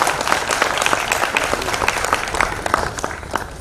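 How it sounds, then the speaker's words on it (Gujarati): Sustained applause from an audience at a Gujarati poetry event on the Porbandar seashore, honoring Darshil Goraniya; many hands clapping steadily at an even level for the whole stretch, no voices over it. "એક વખત જોરદાર તાળીઓ દર્શિલ ગોરાણીયા માટે"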